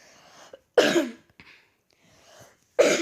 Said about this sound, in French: je suis vraiment désolée de tousser comme ça